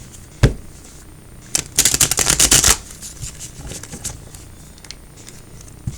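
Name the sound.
shuffling tarot cards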